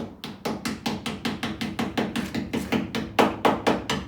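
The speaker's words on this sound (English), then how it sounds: "normally I'll just tap it either with a hammer or the hammer handle" Hammer tapping a body panel onto a classic Mini pickup during restoration, about fifteen sharp metallic taps in a steady, even rhythm, close and loud with no talking.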